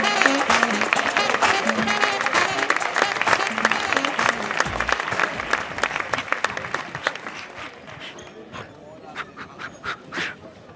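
A comedy show audience applauds loudly and steadily, the clapping slowly thinning out toward the end, with a few scattered claps and cheers.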